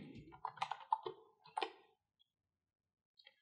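Computer keyboard keys tapped in short bursts while entering code into a Python shell, a quick cluster of close clicks followed by a pause and two faint final taps, heard alone.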